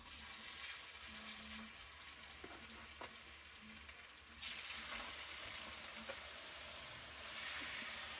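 Liver and onions sizzling on a grill, a faint, steady crackling hiss that thickens partway through, with a few light clicks and no talk over it.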